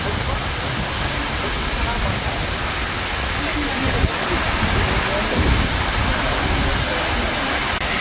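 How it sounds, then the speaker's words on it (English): A waterfall on Jeju Island, Korea, roars as a loud, steady broadband rush of falling and spraying water close by, with a voice briefly heard over it. "the falls is right there."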